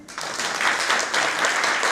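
Audience at a memorial concert for a composer welcomes a People's Artist of Tatarstan onstage, dombra in hand, with strong, dense applause that swells quickly and holds steady.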